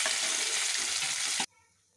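Small fried carp fish sizzle loudly in hot oil with a dense crackle that cuts off abruptly, leaving near silence as the fish are lifted out.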